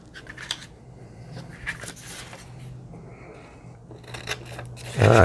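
Scissors snip through paper while cutting a collage piece for a large-format gelli print, a few close, crisp cuts spread across the moment, with a louder rustle of paper handling at the end.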